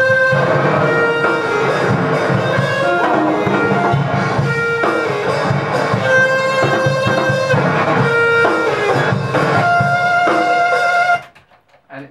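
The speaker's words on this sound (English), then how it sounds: "I took one of Jonas's guitars and I put it through the fuzz factory, and it sounds something like this." Guitar driven through a Fuzz Factory fuzz pedal, a harsh, buzzing, ear-piercing tone with sustained notes and chords played loud and steady for about eleven seconds, then stopping abruptly.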